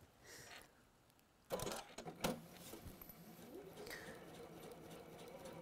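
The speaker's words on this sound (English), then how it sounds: "And now we're going to stitch directly on top of that line" A sewing machine stitching directly on top of a seam line, starting with a sharp close burst and settling into a quiet, steady whirr.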